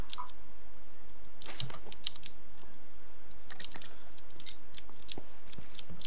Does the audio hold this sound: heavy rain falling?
no